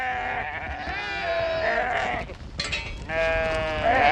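Sheep bleating loudly up close in a mountain flock, with a lead ewe among them; several long wavering bleats overlap one after another.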